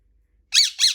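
Two sharp, high-pitched parrot squawks in quick succession after a brief silence, loud and close.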